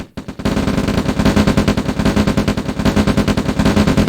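Units in the real-time strategy game OpenRA Red Alert open fire in a sustained, rapid machine-gun rattle. The bursts are loud and continuous and follow a brief initial pop.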